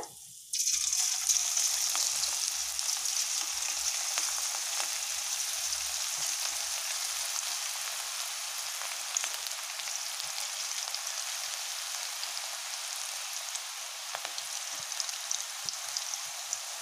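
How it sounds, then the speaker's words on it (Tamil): Onion pakoda batter sizzles and crackles as it drops into hot oil, starting with a sudden burst and settling into a steady, fairly faint frying hiss with scattered pops. "இப்போ நம்ம ஆயிலில் பொறிச்சு எடுத்துக்கலாம்"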